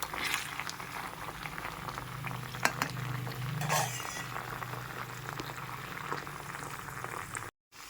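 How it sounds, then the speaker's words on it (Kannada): Homemade hair oil boils steadily in a pot on the stove, giving a continuous soft bubbling simmer with a low hum beneath and a few light clicks, and no voices. "ಇದಿಷ್ಟು ಹಾಕಿ 10 ನಿಮಿಷ ಕುದಿಸ್ತಾ ಇದ್ದೀನಿ."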